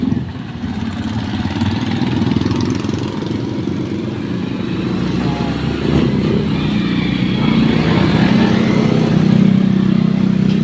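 Cars and motorcycles idle and pass on a busy street, a steady close engine drone with a rising motorbike rev near the end, while a voice speaks briefly over the traffic.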